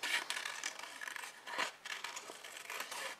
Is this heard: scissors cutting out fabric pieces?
yes